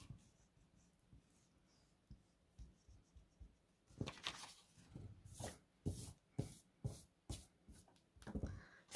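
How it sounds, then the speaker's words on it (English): An eraser rubs out pencil lines on card, brief scratchy strokes in quick irregular bursts that grow more frequent and louder after a quiet start, close up with no talking. "I'll take my eraser, and then I can erase my pencil lines"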